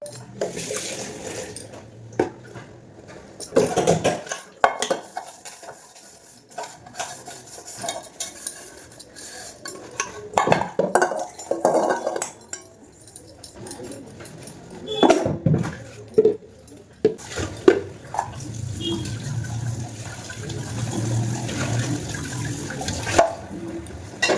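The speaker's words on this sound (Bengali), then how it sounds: "এখানে কটা বাসন আছে ধুয়ে নেবো" Dishes being washed at a kitchen sink under a running tap: water splashes and gushes close by, with scattered clinks and clatter of utensils rising and falling throughout.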